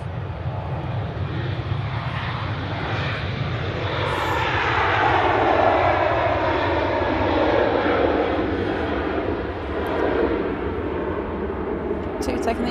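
An airliner taxis onto an intersection at Manchester Airport for departure to Alicante, its engines a steady, broad roar throughout with people talking over it.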